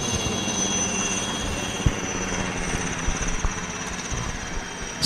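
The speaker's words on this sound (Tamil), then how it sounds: "என்னடா இது போர் விமானம் போய்கிட்டு இருக்குது" A fighter jet passes overhead near an air force base, leaving a sustained, fairly loud engine roar with a thin whine. It holds steady for the whole stretch, with no talk and only a few small knocks.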